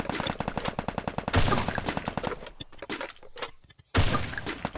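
Rapid automatic gunfire in the Free Fire battle game, a loud burst of evenly spaced shots followed by a gap, a few scattered single shots, then another loud volley, with no speech.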